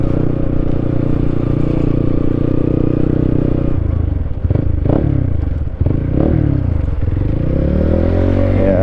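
A Honda CB125 motorcycle engine idles steadily up close, with a low, even rumble. Brief clattering and scraping noises break in around the middle.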